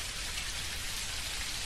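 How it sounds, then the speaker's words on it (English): Steady rain falls in the farming video game Dinkum, a dense, even hiss that holds without break from start to finish, with no voices over it. "You reckon this rain will let up?"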